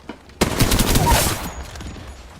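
Gunfire from the Apex Legends video game erupts abruptly in a loud, dense volley of rapid shots that holds for about a second, then tails off into scattered fainter reports.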